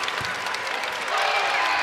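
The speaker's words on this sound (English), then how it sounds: "And the crowd on their feet." A college basketball crowd at a UTEP vs Louisville game, loud dense applause and cheering that rises slightly toward the end, filling the arena close to the microphone.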